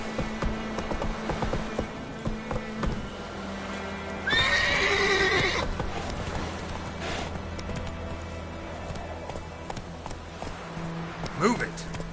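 A horse in The Witcher III video game whinnies loudly in the middle, surrounded by hoofbeats and game ambience, with a voice speaking nearby.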